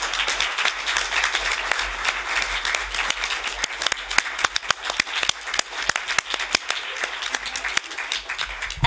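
Audience applause at a Brussels conference on countering anti-feminism, a dense, steady wash of many hands clapping for nearly nine seconds, with sharper individual claps standing out and no talk over it.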